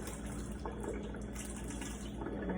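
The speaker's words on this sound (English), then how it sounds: "you want to rinse your fabric until the water runs clear" Water runs steadily from a tap as tie-dyed fabric is rinsed until the water runs clear, a continuous even splashing rush with no talk.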